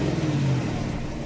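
A 2021 GMC Sierra 1500 Denali pickup engine revs loudly through its exhaust, a deep rumbling roar that swells briefly and then settles back.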